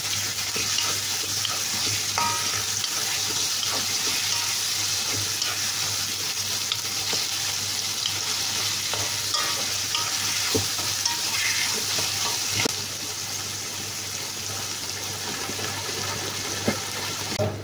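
Wilted garlic fries in a pan as more ingredients go in, giving a steady, close sizzle with occasional stirring scrapes that continue throughout.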